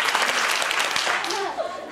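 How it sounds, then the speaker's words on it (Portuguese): Loud audience applause in a council chamber during a youth session, thick clapping that gradually thins toward the end while voices call out over it. "Aplausos!"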